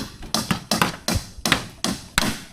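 Hammer blows on wood while building a hanging tree house terrace: seven sharp, evenly spaced strikes in a steady rhythm, close and loud, each ringing briefly before the next.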